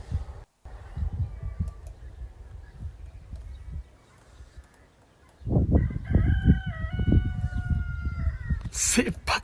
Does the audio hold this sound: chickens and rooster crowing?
yes